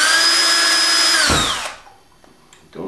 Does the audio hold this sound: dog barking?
no